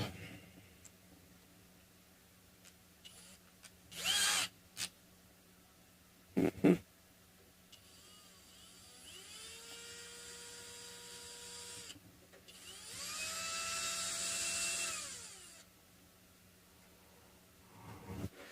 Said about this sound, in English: I'm going to just use the power tool